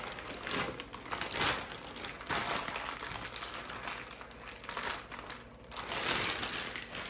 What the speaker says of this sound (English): I'm gonna get the air all out of the Ziploc bag and then tighten it up really well